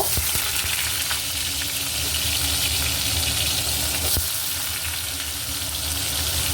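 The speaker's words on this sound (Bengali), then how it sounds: "এবার এই তেলের মধ্যে আমি ডুমো ডুমো করে কুমড়োগুলো কেটে রেখেছি এগুলোকেও ভেজে নেব" Cubed pumpkin frying in hot oil for a potato, pumpkin and pointed gourd curry, with a constant, close, bright sizzle and a few faint stirring clinks.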